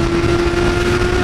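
A Camaro and another sports car roar steadily close by on the Bandeirantes highway, a loud sustained drone with a strong tonal hum as they accelerate.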